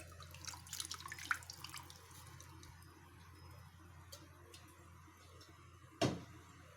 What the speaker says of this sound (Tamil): இப்போ வந்து நம்ம கரைச்சி வடிகட்டி வச்சுக்கிற புளி தண்ணியை ஊற்றிக்கணும்